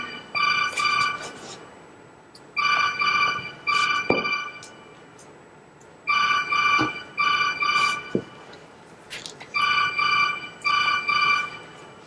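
A mobile phone rings in a quiet room: repeated bursts of a bright electronic ringtone, each sounding twice before a short pause, cycling several times at close range.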